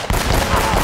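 A loud, close gunshot in the action game Uncharted: Drake's Fortune, bursting in abruptly and followed by sustained noisy combat din with no one talking.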